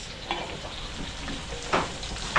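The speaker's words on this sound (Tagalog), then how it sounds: "papupulayin ko lang yung bawang sibuyas" Garlic and onion sautéing in oil, a soft continuous sizzle with a few brief scrapes and taps of a utensil stirring the pan, close by.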